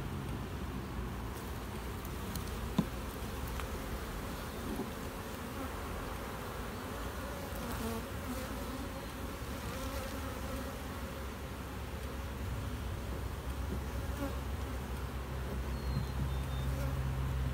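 Honey bees buzz around an opened overwintered nuc hive outdoors, a dense continuous hum of many insects close by, steady and even throughout with faint distant traffic underneath.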